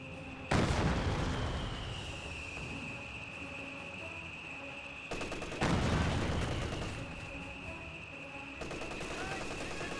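Artillery barrage in the World War II game Company of Heroes 2: two heavy, loud blasts about five seconds apart, each followed by a long rumbling decay over a steady whining tone.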